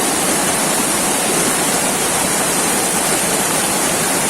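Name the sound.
rushing water of Curug Cibingbin waterfall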